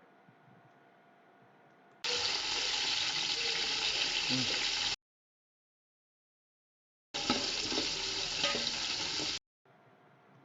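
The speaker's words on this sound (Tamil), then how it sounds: "வெங்காயம் வந்து நல்லா கோல்டன் ப்ரௌன் ஆகணும், அந்த அளவுக்கு வதக்கணும் வெங்காயத்தை" Onions sautéing in a pan until golden brown for Arabic chicken majboos, a steady broadband sizzle in two bursts of a few seconds each, broken by silent gaps, with faint background noise between.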